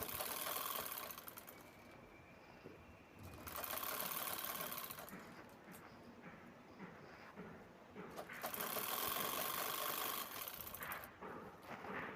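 An electric sewing machine stitches cloth for a ceremonial baby-shower oti handkerchief in three bursts of fast, even running separated by quieter pauses while pins are pulled out.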